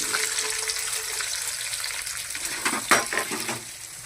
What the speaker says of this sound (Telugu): ఇప్పుడు ఇది ఉల్లిగడ్డలు వేస్తున్నా